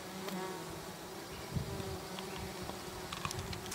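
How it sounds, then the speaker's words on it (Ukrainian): Honeybees returning from the forest to a row of hives, some laden with honey, fill the air with a steady, dense buzzing drone and occasional nearer passes, continuous outdoors with no talking. "Бджола із лісу тікає до вуликів."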